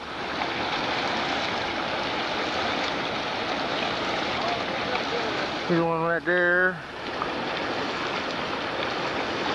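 Flowing water at the Dry Creek fish ladder of a Lake Sonoma fish hatchery makes a steady broadband rushing wash. A person speaks briefly over it.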